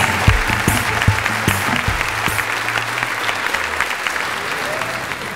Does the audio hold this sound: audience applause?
yes